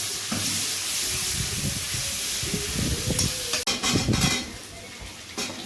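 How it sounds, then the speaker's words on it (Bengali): Onions frying in sesame oil with five-spice seeds: a continuous close sizzle and hiss with stirring scrapes and a sudden clatter midway, then sputtering fry continuing. "তেলে পাঁচফোড়ন দেওয়ার পর পেঁয়াজগুলো দেওয়া হলো ব্রাউন করে ভেজে নেওয়া হবে"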